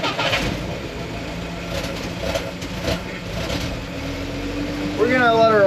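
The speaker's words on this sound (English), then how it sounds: "We're gonna let her idle for a little bit" A 1962 Jeep FC 150 engine runs at a steady idle throughout, a continuous low rumble with slight surges. Voices talk over it at times.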